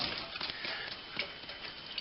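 Hot water, around 85 degrees, flushed quickly through steeping grain for a partial Pilsner kit-plus-grain brew, giving a steady close trickling wash with small ticking drips.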